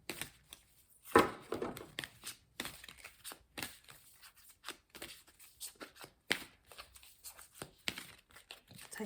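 Tarot cards being shuffled by hand, soft papery riffles and slides in short bursts with brief pauses, close and quiet.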